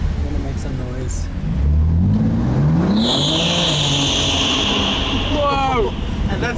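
An Aston Martin Vantage (2019) with traction control off squeals its tires loudly and continuously while the engine revs hard, close by, with people talking and exclaiming over it.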